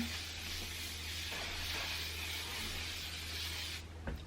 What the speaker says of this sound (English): just taking my hairspray, I just use this Wella one and just spray